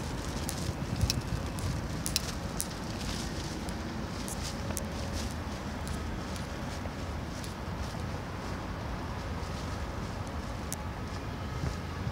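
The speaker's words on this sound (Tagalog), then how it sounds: "Hangin." Steady wind rushes and buffets the microphone in Copenhagen, a constant broadband roar with faint crackles and no voices.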